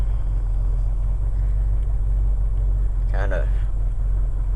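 A 1980 Ford F100 engine idles after a cold start, a steady loud low rumble throughout, with a voice speaking briefly over it.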